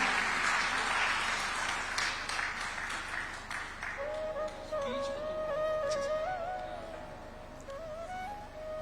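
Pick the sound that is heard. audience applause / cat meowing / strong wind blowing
audience applause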